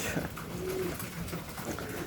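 Racing pigeons coo softly in a loft, a low murmuring call close by amid steady background noise and rustling.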